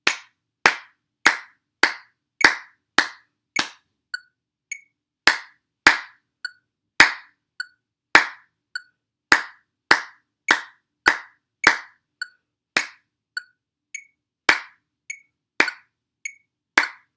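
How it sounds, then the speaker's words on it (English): Hands clap a rhythmic pattern alone in a quiet room, sharp close claps in groups with short pauses between phrases, demonstrating a music performance exercise. "I'll clap it for you guys so you can hear what it would sound like clapped."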